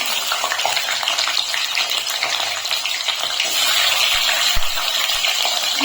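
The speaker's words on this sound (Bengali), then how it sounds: "এখন আমি এর ভিতরে দিয়ে দিচ্ছি আলু।" Potatoes dropped into hot oil tempered with five-spice, a dried red chilli and a bay leaf, a loud close hissing sizzle that holds steady and grows slightly denser toward the end.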